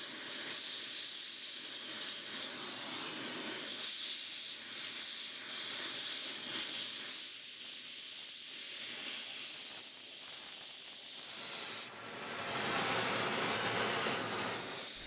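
Gas torch brazing brass onto ground-off cast iron edges, a loud continuous roaring hiss with shifting flow texture, briefly cutting out near the end before resuming steadily.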